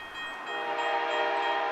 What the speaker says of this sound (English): By listening to that horn, this mixed freight is flying.